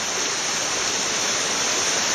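China Creek flowing below, a steady broadband rush of moving water filling the scene at close range, continuous and even with no voices.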